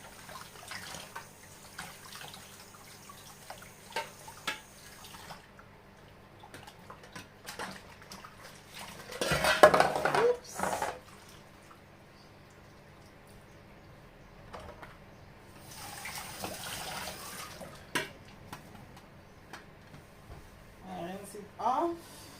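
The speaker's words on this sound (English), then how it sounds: "And then I rinse it off." Tap water runs intermittently over a polished pan being rinsed, with bursts of splashing and clattering in a kitchen sink, while a person talks through much of it.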